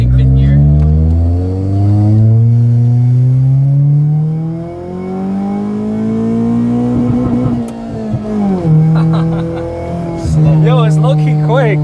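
Car with a fully built Honda D16 engine, four-speed gearbox and limited-slip differential accelerating hard nearby, its engine note climbing through long loud pulls with a short drop at a shift, and voices talking over it.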